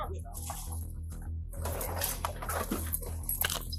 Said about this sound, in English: I have a dog in there.